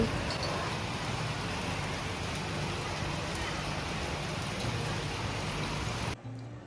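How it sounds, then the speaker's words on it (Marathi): Rain falls in Pune as a steady, even hiss of drops on surfaces. It is moderately loud and continuous with no talk, then stops abruptly near the end. "पुण्यात पण पावसाची हजेरी लागलेली आहे अशा प्रकारे"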